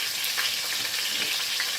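Riblets for a smothered rib dish browning in a frying pan give a steady, dense sizzle and crackle close by, with no talking.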